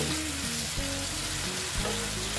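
Soybean chunks and egg curry sauté in a pan, a constant broad sizzling hiss with faint stirring knocks, close and even across the short stretch.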